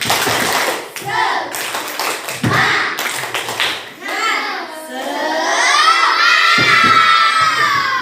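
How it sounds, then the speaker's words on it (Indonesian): Schoolchildren in an Indonesian classroom do a rhythmic tepuk semangat clapping cheer, with bursts of sharp claps and shouted chanting that swells into loud group cheering and shouting. "Sekarang sebelum lanjut kita tepuk semangat dulu."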